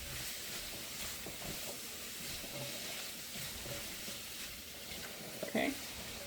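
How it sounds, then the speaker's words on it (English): Sugar snap peas and green beans frying in a pan give off a steady, close sizzling hiss throughout, with a brief clink of utensils near the end and faint voices underneath. "next we put the snap peas, sugar snap peas. Cook that for a few seconds as well, together with the green beans"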